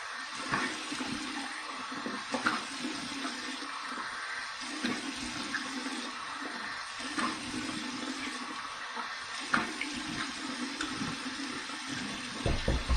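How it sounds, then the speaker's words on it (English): Cold water runs from a bathroom tap for a rinse after a stainless steel safety razor shave, a steady gushing stream with soft splashes of hands and face, fairly quiet and close. "Here's my cold water rinse."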